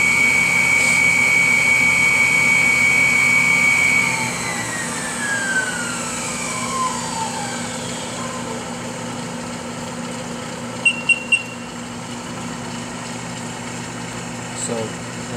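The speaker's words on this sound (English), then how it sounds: "It is only a spin coater" A CEE 100 Brewer Science spin coater runs a cycle, its steady high whine gliding down in pitch as it slows over several seconds, then a low motor hum continues with a few brief beeps near the end.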